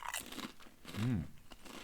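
Wavy salt and vinegar potato chips crunch between the teeth, a few sharp, close bites and chews, with a short hum from the eater in the middle.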